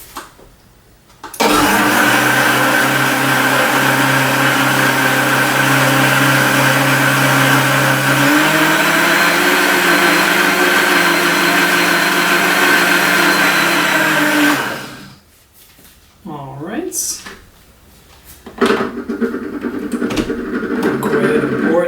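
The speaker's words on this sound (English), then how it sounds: "once you have all the ingredients in the blender, of course you want to set it up and turn it on" A countertop blender whirs loudly and steadily for over ten seconds while blending a homemade electrolyte drink, its motor pitch shifting partway through, then it cuts off, followed by clinks and handling noises.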